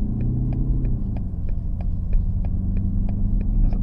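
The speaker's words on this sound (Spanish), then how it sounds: "Nos va haciendo el cambio automático al ir en modo híbrido. Ya no vamos en Sport. Y vamos circulando por ciudad." BMW XM plug-in hybrid SUV rolling through city streets in hybrid mode, a steady low engine and road rumble with faint regular ticking, constant and close throughout, no voices.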